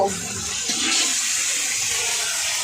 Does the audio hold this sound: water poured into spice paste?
yes